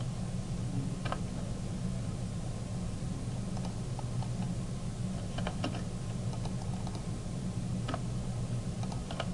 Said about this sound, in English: I'm going to type in CJ